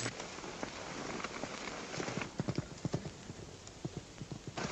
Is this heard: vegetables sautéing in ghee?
no